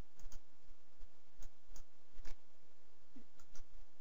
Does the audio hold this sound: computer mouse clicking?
yes